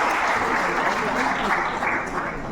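Audience applause fills the hall at the closing and awards ceremony of the FICAM animation and games festival, a steady, dense clapping that holds at an even loudness throughout.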